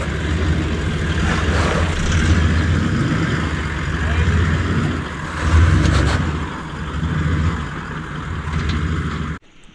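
A 4x4 named Gemma climbs a rocky powerline track at Yalwal, its engine droning and surging with revs over crunching ground, close and loud, then cutting off abruptly at the end.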